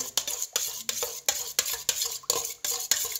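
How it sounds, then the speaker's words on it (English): Wet ingredients for a dark chocolate cake batter stirred in a bowl, a steady rhythmic scraping and clinking of utensil against dish, repeating about every third of a second, close and alone. "Mix the wet together."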